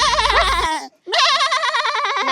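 A goat bleats in two long, wavering cries separated by a brief pause, close and loud, with some low background noise at the start.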